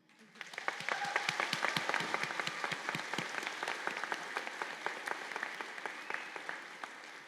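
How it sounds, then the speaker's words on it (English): A ceremony audience applauds nursing graduates at a pinning and candle lighting event, with dense, sustained clapping of a large crowd heard from a moderate distance, fairly soft and unbroken. "Now, I think that deserves a loud clap."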